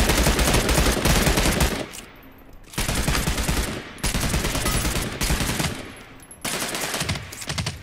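Loud, close automatic gunfire in Realm Royale, sustained rapid bursts broken by short pauses, several separate volleys over a few seconds with no talking.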